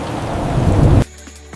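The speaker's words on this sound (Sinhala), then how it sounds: "කෝ වහිනවා ඉවරයක් නෑ" Heavy rain pouring with rolling thunder in an AI-generated scene, loud and dense for about a second before cutting off abruptly to near silence.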